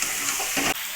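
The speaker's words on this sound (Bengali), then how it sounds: "চিকেনটাকে আমি ভালো করে নাড়াচাড়া করে দইগুলো আর মশলার সঙ্গে সব কিছু ভালো করে মিক্সড করে নেব।" Chicken being stirred and mixed with yogurt and spices, a brief wet, hissing churn up close that cuts off sharply near the end, no voices.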